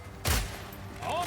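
A single grenade blast in the action game Path of Exile 2, one sharp close explosion with a short decaying tail, followed by a faint voice.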